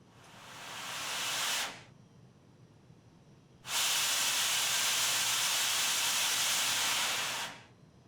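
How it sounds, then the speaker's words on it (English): Steam vents from a pressure relief valve in a steam engine simulator game, two loud, broad hisses, the first swelling for about two seconds and the second a longer steady blast that cuts off sharply. "once the pressure exceeds the set point of the PRV, then we start getting steam coming out of that outlet"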